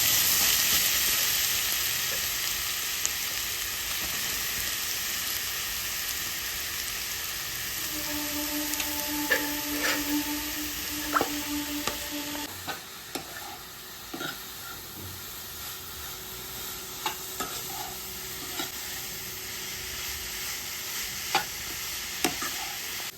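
Grated carrot fries in a pan with a steady hissing sizzle throughout, punctuated by scattered clicks and scrapes as it is stirred, with a brief tonal ringing partway through.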